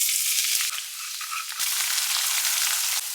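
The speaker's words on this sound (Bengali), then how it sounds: "প্রথমে আমি রসুন ফোড়ন অ্যাড করছি" Garlic frying in hot oil in a pan, a loud, dense, continuous hiss of sizzling heard close up, with a few faint knocks and no voices.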